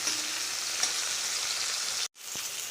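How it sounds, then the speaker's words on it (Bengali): Tomato fries in oil with a constant, even sizzle close by, then cuts to silence for a moment near the end before the hiss resumes. "টমেটোটাও ভেজে নেব।"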